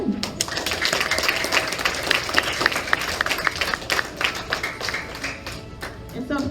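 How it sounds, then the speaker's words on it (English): Applause and clapping from families and guests at a fifth grade commencement ceremony, a steady mid-level patter running throughout with a few sharper claps standing out. "let's give another round of applause"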